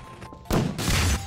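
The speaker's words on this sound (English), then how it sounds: "I just hear shooting." Gunfire in a Prop Hunt video game, a sudden loud burst of shots that stays dense and continuous after a quieter stretch, with no talk.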